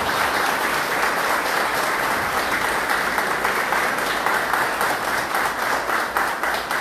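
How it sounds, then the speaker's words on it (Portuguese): A packed chamber at a formal solemn session applauds honorees and officials with sustained, even clapping, loud and continuous throughout with no voices over it. "Peço uma salva de palmas aos nossos homenageados e às nossas autoridades."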